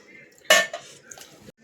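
Grated coconut paste is scraped and poured out of a mixer jar: one sharp clatter of the jar against a bowl, then softer scraping and knocks, close and fairly loud.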